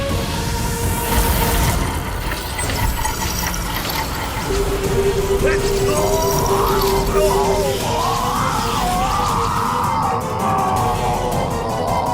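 Cartoon screams rise and waver over a dense, steady bed of music and clanking, ratchet-like mechanical noise, with a thin sustained tone partway through.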